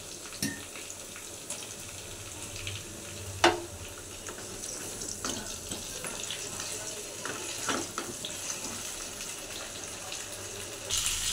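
Potatoes and papaya frying in a pan for a light chicken stew, a soft steady sizzle close by with occasional sharp clicks and scrapes of a spatula stirring against the pan.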